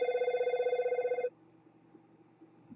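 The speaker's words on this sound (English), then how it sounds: "And there's the phone, and I'm just going to turn it off." A telephone rings in a quiet room, a rapid trilling bell burst repeating for just over a second before cutting off, leaving faint background hum and small handling noises.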